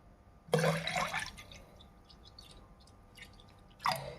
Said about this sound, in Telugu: దాంట్లోకి మనం పాలు పోసేద్దామండి